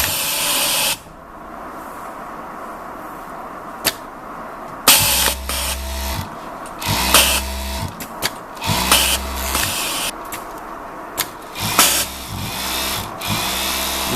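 An iEX overlock machine stitches and trims fabric in semi-automatic mode, its motor whirring in loud, repeated bursts separated by short pauses, with no one talking.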